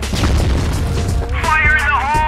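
A grenade explodes in the shooter game CrossFire, a heavy low boom that rumbles on for about two seconds as a voice shouts over the later part.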